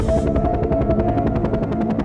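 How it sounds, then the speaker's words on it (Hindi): Cartoon helicopter arriving at an island, a loud steady rotor chop with rapid even beats and a droning engine filling the whole stretch, no voices over it. "तभी हेलीकॉप्टर की आवाज आने लगी।"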